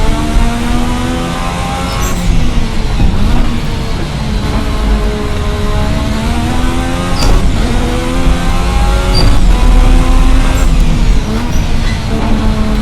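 A loud Formula RSS 1986 V6 racing engine in Assetto Corsa revs continuously, pitch climbing and dropping with gear shifts around 11,000 rpm, close and dominant with no talking.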